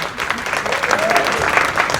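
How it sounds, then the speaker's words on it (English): A roomful of people at a school counselor breakfast claps in a loud, dense burst that holds for the whole short stretch. "Can we give our friends here a round of applause?"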